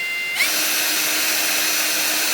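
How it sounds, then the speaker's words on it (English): A power drill whirs to life on a UV printer bed and keeps running at a steady, loud, high-pitched whine with nothing else heard. "when you drill"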